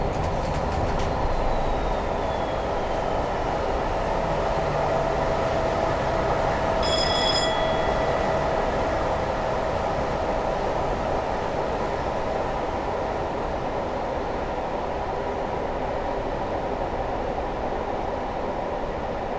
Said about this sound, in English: I'm just going to idle the power at this point and allow the train to coast until we can accelerate further.